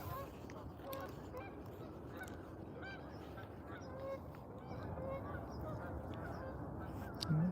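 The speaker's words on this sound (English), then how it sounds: "Here's some ducks." Ducks and geese honking and calling outdoors near water, a steady busy flock chorus of repeated nasal calls, moderately close, with no talking over them.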